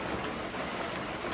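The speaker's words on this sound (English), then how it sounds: "and it's raining" Steady rain falls through the woods during a muzzleloader deer hunt, a constant close patter on leaves and ground with no pauses and no voices over it.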